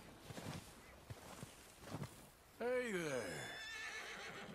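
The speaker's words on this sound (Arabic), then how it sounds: "شوف حصان جدا قوي" A horse in the video game Red Dead Redemption 2 lets out a loud, clear whinny that rises and trails off over about two seconds, following quieter rustling and hoof-like thumps.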